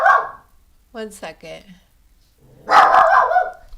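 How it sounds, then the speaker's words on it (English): A pet dog named Bonbon barks sharply at the start and again near the end, loud and close, with a voice speaking briefly in between. "stop barking, please"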